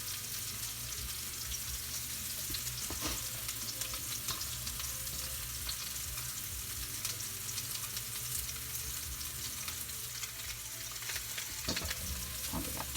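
Meatballs frying in oil in a pan, giving a steady, close, loud sizzle and crackle throughout with occasional stirring clinks, no voices.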